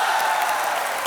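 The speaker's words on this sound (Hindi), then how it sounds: "जोरदार तालियों से स्वागत कीजिए हमारा।" Studio audience applause on a Hindi comedy talk show, a brief dense burst of clapping at steady volume with no break.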